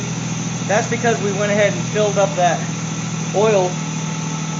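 A BMW Z3 roadster engine idling steadily just after an oil and filter change, a low continuous hum running under someone talking close by.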